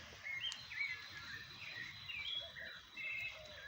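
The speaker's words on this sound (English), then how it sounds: "Oh, look at those pretty birds." Faint birds chirp in the distance at an ecological park in Yucalpetén, Mérida, scattered high tweets over a soft, steady outdoor background with no one talking.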